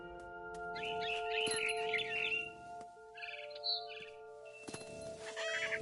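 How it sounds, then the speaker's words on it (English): Bright chirps and tweets from a barn swallow in the video game What Remains of Edith Finch, a few short bursts of song over a steady tonal ambient hum, with no talking. "Then I heard chirping outside my window. It was a barn swallow going back to her nest."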